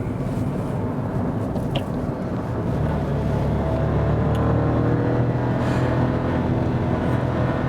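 Kia Picanto with its 84 hp engine, heard from inside the cabin while driving, gives a steady low engine hum and road rumble that rises slightly as it picks up speed.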